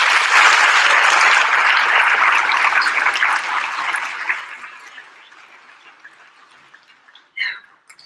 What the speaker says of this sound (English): let's give a round of applause to Braille for making this happen